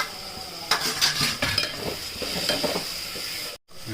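Onions and tomatoes are stirred as they fry in a pan with curry leaves and green chillies. A spoon scrapes and clinks against the pan in irregular strokes over a soft sizzle, with a brief dropout near the end.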